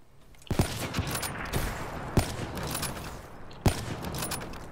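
Gunshots fired at a mannequin in a shooter game crack out as several sharp, loud reports spaced about a second or two apart, each followed by a dense ringing tail of echo and noise.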